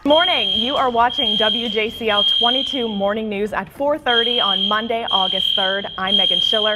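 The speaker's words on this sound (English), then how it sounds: "we have a fire drill going on right now. You can hear that blaring in the background." A fire alarm blares a steady high tone through a fire drill in a TV news studio, running almost continuously beneath a presenter speaking loudly and close.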